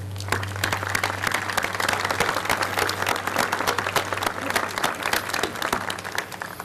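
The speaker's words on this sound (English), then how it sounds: "I want us all to applaud those who made it happen" Audience applause at the outdoor Walk of the Flags dedication at the Oregon State Capitol, a sustained crowd clapping that stays dense and even for several seconds before starting to thin, with a low hum underneath.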